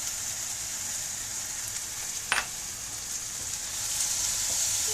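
Oyster mushrooms and tomatoes sauté in a pan with a steady close sizzle, one brief scrape of a spoon midway and the frying growing slightly louder toward the end.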